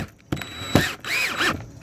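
A power driver sinks a wood screw into a hot tub cabinet while fitting an E-Z Lifter spa cover lift, whirring in short close bursts with a rising and falling whine.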